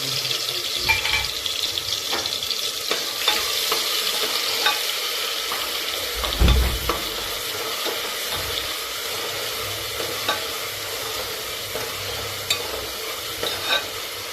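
Cumin and mustard seeds fry with ginger, garlic and coconut in a pan, giving a continuous crackling sizzle with stirring scrapes and a few bumps of a utensil, close up, with no speech.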